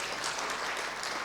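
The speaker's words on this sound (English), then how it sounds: "if you could appreciate it just one more time with a round of applause" Audience at a Pan Africa private sector corporate dinner applauding, a dense, steady wash of clapping that stays loud and even throughout.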